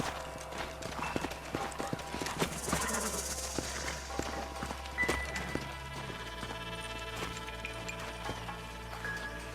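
Horses gallop in a Red Dead Redemption game scene, a quick stream of hoofbeats among busy game sound and music-like tones, the pounding easing after the midpoint.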